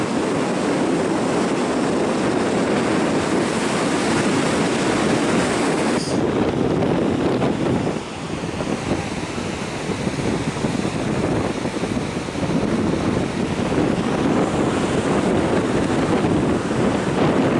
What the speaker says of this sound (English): you can see the waves dashing against the rock and entering inside the cave